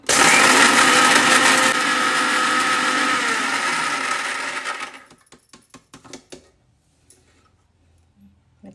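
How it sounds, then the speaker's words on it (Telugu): An electric mixer grinder whirs loudly and steadily while grinding spices with dried ridge gourd peel for a spice powder, then winds down and stops, followed by scattered rattles and clicks. "మిక్సీకి జార్ని స్విచ్ ఆన్ చేసుకుందాము మిక్సీ ఆన్ చేస్తున్నా"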